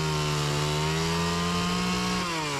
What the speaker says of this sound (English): This is by far the biggest tree I've ever felled as a complete newbie chainsaw operator.